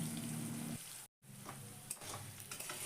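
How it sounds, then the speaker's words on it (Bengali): Potatoes sizzle in hot oil in a pan, a constant bright frying hiss broken by one brief silent gap, with faint stirring clinks and a low hum underneath. "চলো এখন আলুগুলো ভেজে নিই"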